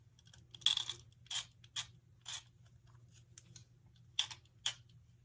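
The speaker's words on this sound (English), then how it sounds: "You see there's a little lip there. I just cut those off." A small cutter trims the molded lip off plastic N-scale model kit awnings. Several crisp, quiet snips come at uneven intervals against a low hum.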